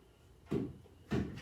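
A wooden shed door that is falling apart, shown as two dull knocking thuds about half a second apart, close and moderately loud, with no talk.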